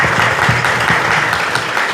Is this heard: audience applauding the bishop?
yes